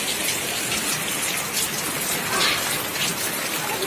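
Steady rain falls and patters on surfaces, a dense, even hiss of drops that stays close and fairly loud throughout, with no talk over it.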